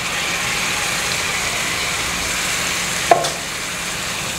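Tomato puree is stirred and fried with spices in a pan for dal tadka, giving a steady, loud sizzle throughout with one brief metallic clink of the spoon partway through.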